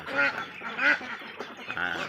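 Laying ducks of several breeds quack on a duck farm, a few distinct nearby quacks in an irregular sequence with softer calls between them.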